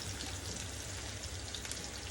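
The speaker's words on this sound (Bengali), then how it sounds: "এখানে মাছের মশলাটা আমি কষিয়ে নিচ্ছি।" Fish masala paste made with ginger and garlic fries in a pan, giving a dense, steady sizzle close up with no talking.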